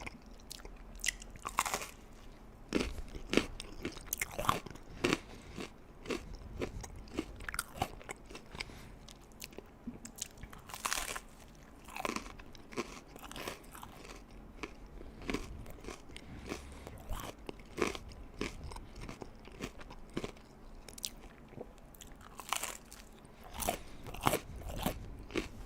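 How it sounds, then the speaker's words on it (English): Hard crunchy food bitten and chewed close to the mic, with repeated sharp crunches and crackles in irregular bursts between quieter chewing. "Try to make sure you guys can hear the crunch."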